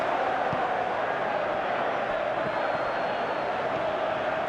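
Steady stadium crowd roar from the PES 2021 football video game during a simulated Chelsea vs Manchester City Premier League match, a continuous loud wash of massed voices with no breaks.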